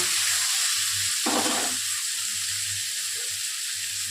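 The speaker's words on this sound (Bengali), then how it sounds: "উচ্ছেগুলো একটু লাল লাল করে ভেজে নিলে" Bitter gourd fries in hot oil with a loud, continuous hiss and crackle heard close up. A low hum runs beneath it, and one brief rougher burst of sizzling rises from the steady frying.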